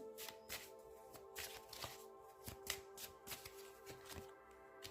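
Tarot cards are shuffled up close in a rapid series of crisp riffling flicks and slaps, repeating in short bursts with no talking.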